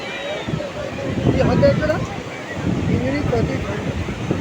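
Strong wind gusting across the beach at Puri, a loud rumbling buffet on the microphone with surf washing behind it, continuous and swelling throughout.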